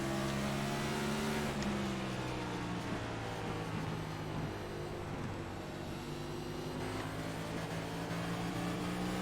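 In an iRacing IROC Series race at Richmond Raceway, a race car engine drones steadily with rising and falling throttle pitch, sustained and fairly faint, with no talking.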